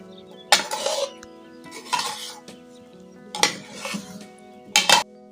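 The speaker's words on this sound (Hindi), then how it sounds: "अब इन्हें मिक्स ही करते रहना है जब तक कि ये चाश ठंडी हो के इनके ऊपर कोट ना हो जाए" Fried shakar para dough pieces are stirred through cooling sugar syrup in a metal pan, with four separate bursts of scraping and clinking of a spoon against the pan, separated by quiet pauses.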